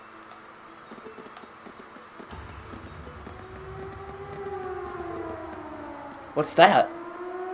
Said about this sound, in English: It sounds like a siren. It seems to be coming from the fort.